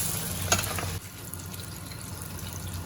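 Emperor fish, also called mulla, fries in a pan with a steady, close, fairly quiet sizzle. A brief scrape or stir comes near the start, and the sizzle softens slightly just after.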